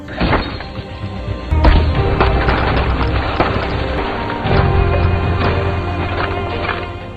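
Gunfight effects in a war film: dense, loud cracks and thuds pile up in rapid irregular bursts over a rumbling bed, with heavy impacts and no pause throughout.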